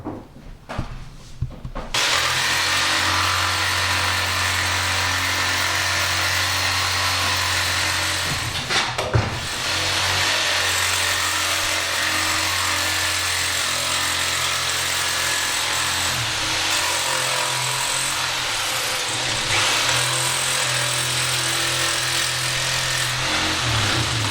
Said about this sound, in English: for that I'm going to use my old Bosch jigsaw